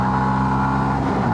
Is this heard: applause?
no